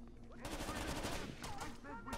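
Rapid automatic gunfire in the Rainbow Six Vegas 2 video game crackles in dense bursts with a short gap partway through, loud and close, over faint background game sounds.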